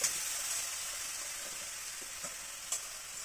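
A ground spice mix sizzles softly in a hot pan as it is sautéed and stirred, a faint steady hiss broken by a few light scraping knocks.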